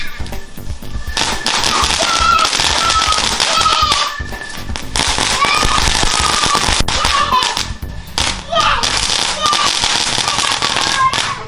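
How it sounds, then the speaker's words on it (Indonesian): Dinosaur egg firecrackers lit and exploding in a dense, continuous crackle of rapid pops and whistling bursts, loud and close for the whole stretch with brief dips between volleys. "Kita bakar petasan dinosaurus egg"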